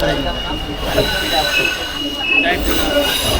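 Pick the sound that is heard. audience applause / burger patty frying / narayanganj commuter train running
narayanganj commuter train running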